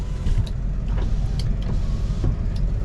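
Power windows on a 2002 Ford Excursion Limited with the 7.3L Powerstroke diesel hum steadily as they run, a continuous motor whine over the low rumble of the idling truck, with faint clicks throughout.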